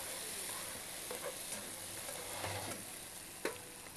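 Onions fry in a pan on a stovetop, giving a steady soft sizzle with occasional stirring scrapes and light clatter, fairly quiet and without speech.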